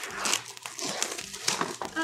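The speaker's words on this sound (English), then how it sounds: "Use the nails to cut through that plastic." Plastic wrapper on a Pokemon card pack being torn open with fingernails, a close, busy crinkling and crackling lasting the whole two seconds, with a voice talking over it.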